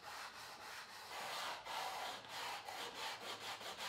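Sandpaper glued to a wooden block rubbed back and forth over a wooden workpiece for a lounge chair, making a close, rhythmic scratchy rasp with steady repeated strokes.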